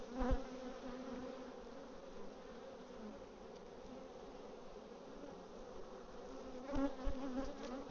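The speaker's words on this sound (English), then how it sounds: "These bees are already getting pissed off." Many bees hum in a low, continuous drone close by around an open hive, with a few louder buzzes as individuals fly past.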